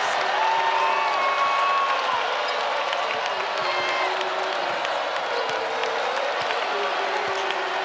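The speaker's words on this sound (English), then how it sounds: "The crowd feeling it and loving it." A basketball arena crowd at a 2025 NCAA women's second-round game between North Carolina and West Virginia cheers and applauds in a sustained, loud roar.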